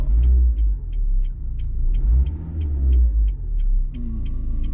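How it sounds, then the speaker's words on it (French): Renault Clio 3 1.5 dCi diesel pulling hard on a motorway, a loud steady low rumble of engine and road noise rising in surges, with a faint regular ticking throughout. "je vais pouvoir y mettre une accélération un peu franche dans sa gueule"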